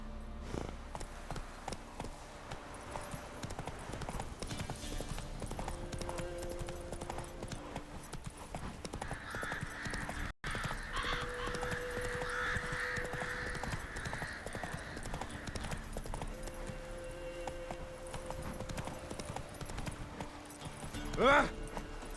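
A horse's hooves clip-clop steadily at a gallop in the video game The Witcher 3, under a dense layer of music and ambient game sound, with a brief snort near the end.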